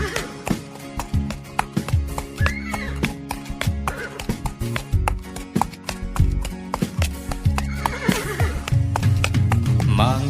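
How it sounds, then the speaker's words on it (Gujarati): A horse's hooves clip-clop in a quick, uneven patter, close and prominent, mixed with musical accompaniment from a children's song about a horse. "ખદુક ઘોડા ખદુક"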